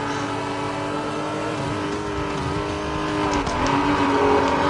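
Sustained engine revving of a car doing a burnout in the Need for Speed Most Wanted video game, a steady loud roar with harmonic whine and a slight rise in pitch and volume near the end.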